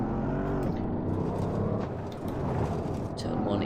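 Porsche Cayenne Turbo engine accelerating in Assetto Corsa on a rally stage, a steady loud rising drone with a brief dip midway, and someone talking over it.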